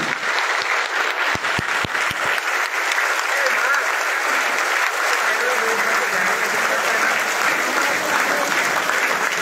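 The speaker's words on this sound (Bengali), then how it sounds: "আসুন আমরা এই জাতীয় নেতাদের উদ্দেশ্যে 1 মিনিট করতালির মাধ্যমে তাকে অভিনন্দন করি।" A crowd at a political party gathering gives sustained applause for national leaders. Dense, loud clapping fills the whole stretch, with a few sharper claps at the start.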